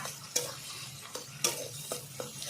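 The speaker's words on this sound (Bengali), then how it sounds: "এইভাবে উল্টিয়ে নিতে হবে যাতে না লেগে যায় ভালো করে আমি এইভাবে নেড়ে নেড়ে আজকে রান্নাটা কমপ্লিট করব" Yardlong bean mash being turned and stirred in a frying pan with a little sugar, giving a handful of soft, irregular scrapes and taps over a faint, low sizzle, fairly quiet and without voices.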